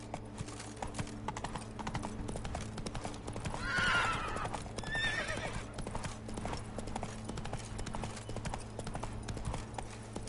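In The Witcher 3, the horse Roach clip-clops steadily on hooves, with a short whinny partway through, all under a quiet game background.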